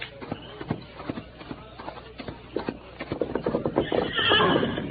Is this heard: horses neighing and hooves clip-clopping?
yes